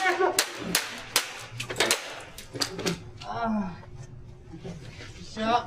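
Sharp gunshot cracks in a staged armed robbery, several loud pops in quick succession during the first few seconds, mixed with shouting voices, followed by someone speaking afterward.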